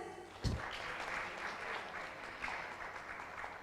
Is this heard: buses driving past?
no